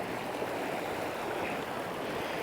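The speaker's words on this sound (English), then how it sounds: "the water comes down there, has literally flooded my tent out" Rainwater streaming through a flooded tent pitch at a campsite, a continuous close rushing and gurgling wash with no talking.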